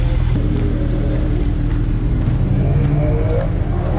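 A car pulls away on the Nürburgring Nordschleife, its engine a steady, close, low drone with a slight rise in pitch as it gets moving, no voices heard.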